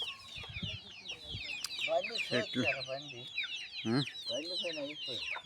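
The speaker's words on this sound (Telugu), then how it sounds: "చూడండి ఎట్లా అరుస్తున్నాయి కోళ్ళు" A flock of chickens clucking and squawking close by, a busy, continuous chatter of overlapping calls.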